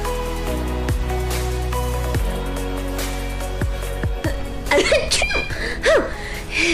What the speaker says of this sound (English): It's true, pandas do love sneezing.